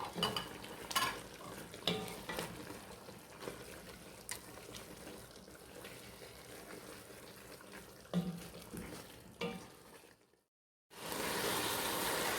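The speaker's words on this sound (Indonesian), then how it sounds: "Masukkan spinach. Aduk sampai rata." A spoon works spinach into a chicken curry with cut potatoes in a pan: soft, quiet scraping and stirring strokes over a faint low sizzle, with a few sharper knocks against the pan.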